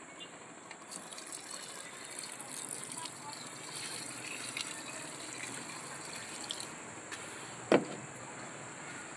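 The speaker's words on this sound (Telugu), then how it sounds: "ఇదిగో వాటర్ పోస్తున్నాను నేను." Water pours and trickles steadily onto garden plants, a soft continuous splashing that stays faint, with someone talking in the background and a brief knock near the end.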